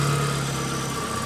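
A Datsun 120Y engine idles with a steady low hum and faint mechanical ticking, its ignition timing badly off, running continuously and close without any voices.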